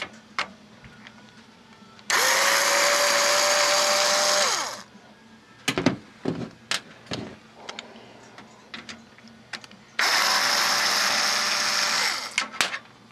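An electric screwdriver backing out the four screws holding a computer power supply, two long steady whirring runs of a couple of seconds each, separated by clicks, taps and small handling rattles, close and alone.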